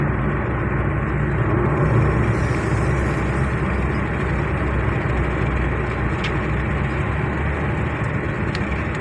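Engine of a 2018 Chevrolet Spark with a CVT transmission fault, running steadily up close with a dense low rumble and mild swells as the revs rise and fall, no talking.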